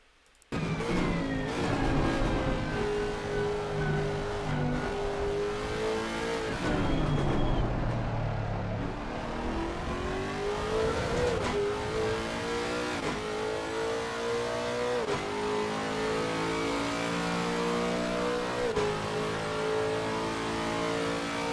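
A Lexus RC F GT3 race car in Assetto Corsa Competizione at Circuit Paul Ricard revs hard and continuously, its engine note climbing through gears with brief dips at shifts, loud and steady with no talk.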